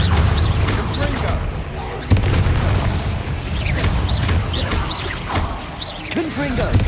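Repeated Confringo fire-spell blasts in the wizarding game Hogwarts Legacy: a rapid series of booming explosive bursts and whooshes, loud and close, mixed with shouted spell-casting voices.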